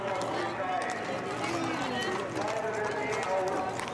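Police mounted unit horses trotting during a demonstration, a faint, busy patter of hooves buried under crowd noise and a continuous stream of talk.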